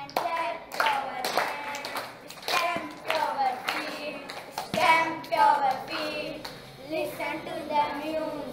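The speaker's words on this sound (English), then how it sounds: "Clap your hands, clap your hands." Children at a school clap their hands in rhythmic bursts along with a sung action song, with sharp, fairly close claps under children's singing voices.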